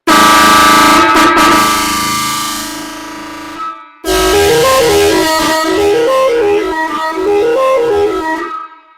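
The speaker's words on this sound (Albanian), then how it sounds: "Tu kemi një bori inoksi, me 6 tyta dhe 8 melodi të ndryshme." A stainless steel 24V air horn with six trumpets and eight melodies blares loud and close, first a sustained multi-tone blast, then after a brief gap a bright, rising-and-falling tune played through the trumpets.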